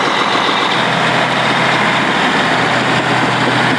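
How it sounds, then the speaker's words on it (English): A heavy Caterpillar diesel engine on a farm tractor runs at a steady, loud idle, a deep rumbling drone close by with no voices. "Every time I hear that cat engine roar to life"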